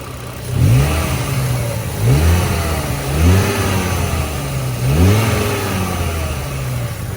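A Renault Safrane 2.5-litre five-cylinder engine is revved repeatedly, with several rising throttle blips over a steady idle hum, close and loud with no talk.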